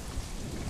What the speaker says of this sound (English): that storm's all right there